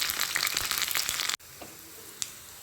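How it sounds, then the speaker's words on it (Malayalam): Chopped shallots and curry leaves sizzle loudly in hot oil for a tempering over a banana stem and plantain kootu curry, then the frying cuts off abruptly into a quieter sizzle with a single sharp clink. "നാല് ചുവന്നുള്ളി അരിഞ്ഞത് അതിലേക്ക് ഇട്ട് രണ്ട് മൂന്ന് കരിയേപ്പിലയും കൂടി ഇട്ട് താളിച്ച് മൊരിച്ചെടുക്കണം"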